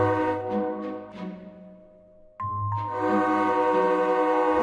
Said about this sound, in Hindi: दूसरी ओर पटरी पर ट्रेन आ रही थी।